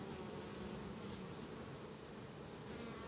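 A honey bee hive full of bees, with a packed honey super, gives off a steady, dense buzzing hum as the bees fan hard, loud and continuous throughout.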